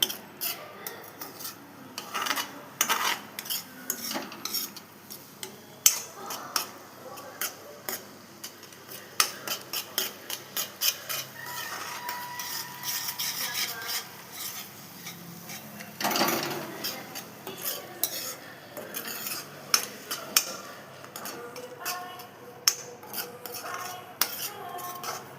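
A spoon scrapes and clinks steadily against a pan as sugar is stirred into palkova, a homemade milk sweet, a fairly quiet, continuous rubbing and tapping with frequent small metallic ticks.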